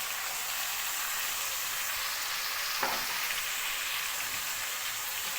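Tomatoes frying in a pan after the onions, with a steady, even sizzle running throughout and one brief clink partway through, no talking.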